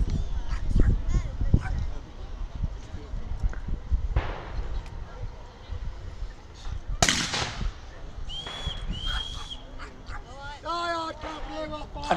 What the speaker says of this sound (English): the vast majority of our firing is done like this, by section firing and volleys